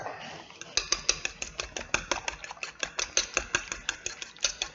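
A fork clicks and taps rapidly and steadily against a bowl while mixing for a French duck dish, close and fairly soft, the rhythmic strokes continuing throughout.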